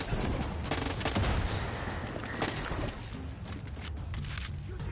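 Rapid gunfire in Far Cry 6, a dense burst of loud automatic shots with crackling texture, followed by continued scattered firing at a lower level.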